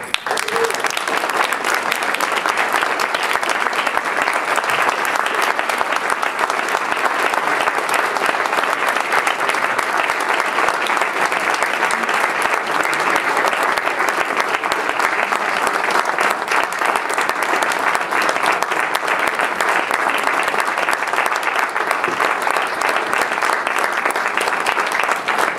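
An indoor award audience at a public health gathering applauds steadily to welcome Marta Ojeda to the stage, a dense, even wash of clapping that holds for the whole stretch without a break.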